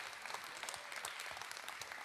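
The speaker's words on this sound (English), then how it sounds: "Everybody give them a round of applause and thank them for their willingness here." Dense applause from an audience at a group training session fills the whole moment, a steady wash of many hands clapping with no voices standing out.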